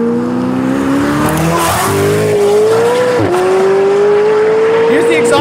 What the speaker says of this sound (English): Here's the exhaust tone again.